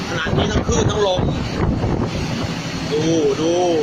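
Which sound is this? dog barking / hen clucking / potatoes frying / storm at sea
storm at sea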